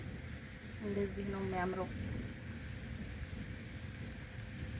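Rain falls outdoors as a soft, steady hiss of fine noise behind someone speaking briefly and quietly close by.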